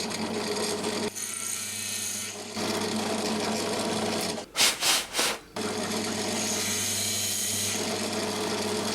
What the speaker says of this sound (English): So I just drill this incrementally until I can just about see the brass tube.